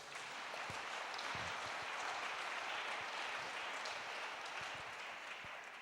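A church congregation claps steadily to acclaim Jesus, dense, continuous applause heard from a distance at a low, even level with no speech over it.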